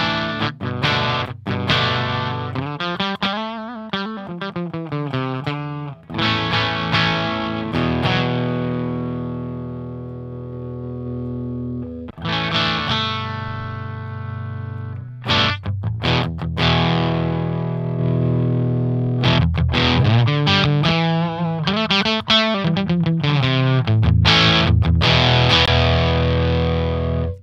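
An electric guitar plays through the Attacker effect of the PolyChrome DSP McRocklin Suite, giving loud, continuous distorted chords and riffs with a shifting, modulated tone. A voice briefly murmurs once.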